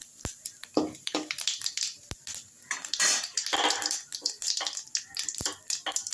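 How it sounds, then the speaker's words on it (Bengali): Cumin seeds and two bay leaves spit and crackle in hot mustard-style fish-frying oil in a kadai, with busy irregular sizzling, popping and metallic clinks of a utensil against the pan, close and fairly quiet. "এরপর কড়াতে মাছ ভাজার তেলে আমি জিরে ফোড়ন দেব"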